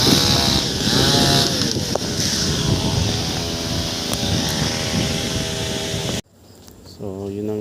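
A chainsaw cuts mango trees outdoors with a loud, continuous engine whine under wind noise. The saw drops out abruptly near the end and then revs again more faintly, with a voice briefly audible.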